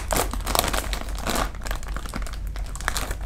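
A plastic toy surprise bag from Toys City, the kind holding pop-it fidget toys, is torn open with dense, continuous crinkling and crackling close by, loud and steady throughout, with no talking.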